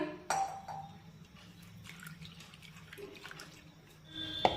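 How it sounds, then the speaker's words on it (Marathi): Water is poured into a bowl of masoor dal lentils to wash them, a splash and steady trickle with a brief clatter near the end, moderately faint and close. "आता यामध्ये आणखीन पाणी टाकून ही डाळ आपण स्वच्छ धुवून घेऊया"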